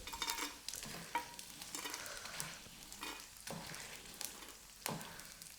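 Edible gum puffs and roasts in ghee in a pan, with soft sizzling and frying crackle under repeated scraping stirs of a spoon, close and fairly quiet with no talk.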